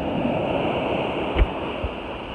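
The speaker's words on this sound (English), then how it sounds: "Waves crashing by the sea, the beach." Sea waves wash onto a beach as a steady broadband roar of surf, close and continuous, with a couple of low thumps and no voices.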